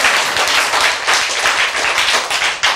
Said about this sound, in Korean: 와, 이거 박수 한번 보내야 돼요.